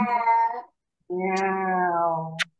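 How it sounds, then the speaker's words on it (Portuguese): A cat meows twice, two drawn-out, clear mewing calls separated by a short pause, close and fairly loud with no other sound around them. "Miau."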